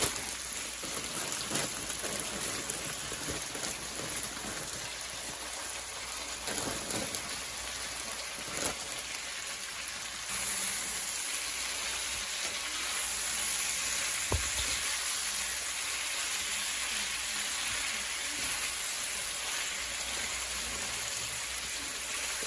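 Green beans and bacon frying together in a hot pan, a steady dense sizzle and crackle that carries on without pause, with faint stirring and no talk.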